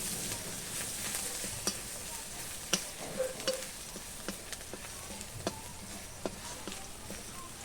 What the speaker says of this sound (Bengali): কড়াইতে তেল গরম হয়ে গেছে, এই যে রসুন আমি দিয়ে দিচ্ছি।